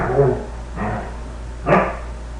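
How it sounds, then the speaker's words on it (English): Basset hounds playing together indoors in the background, giving a few short muffled yips and grumbling barks in separate bursts over a steady low hum. "that's my basset hounds playing with each other"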